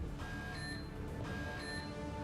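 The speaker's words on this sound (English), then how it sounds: "Oh, no. An alarm." A quiet electronic alarm sounds in the video game Mass Effect 2, repeating two-tone beeps in a steady pulsing pattern over low background game ambience.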